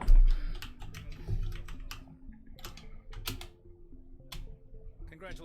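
Computer keyboard keys tapped as game controls during Mass Effect Legendary Edition, irregular sharp clicks in short bursts, close and distinct over low game audio.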